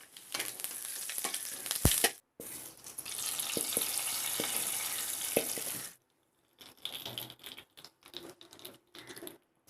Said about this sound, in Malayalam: കടുക് വറുക്കാൻ വേണ്ടി ചീനച്ചട്ടി അടുപ്പത്ത് വെച്ചിട്ട് കുറച്ച് വെളിച്ചെണ്ണ ഒഴിച്ചു കൊടുക്കണം. അതിലോട്ട് 1/2 ടീസ്പൂൺ കടുക് ഇടണം.